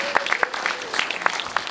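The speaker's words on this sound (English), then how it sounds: "you can cheer that." Audience at an award ceremony applauding, sharp scattered claps and light cheering, fairly faint and brief.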